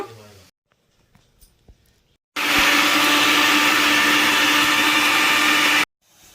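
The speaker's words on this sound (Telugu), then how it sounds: "ఎండుమిరపకాయలు పచ్చిమిరపకాయలు వరకు మిక్సీ పట్టేసుకుందాము" A kitchen mixer grinder blitzes dried red and green chillies for a carrot chutney, a loud, steady whirring roar of about three and a half seconds that starts and stops abruptly after a quiet stretch with faint handling sounds.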